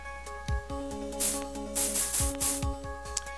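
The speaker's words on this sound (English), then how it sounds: "I'll start spraying this area" Several short hissing spray bursts from a Phoenix Wright video game, mixed with tonal electronic game sounds and soft blips in quick succession, with no talk.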